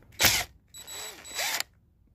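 A power tool removing a 10 mm bolt on the starter solenoid of a 50cc Chinese kids' ATV: a short loud whir, then a longer whine that rises and winds down, close up.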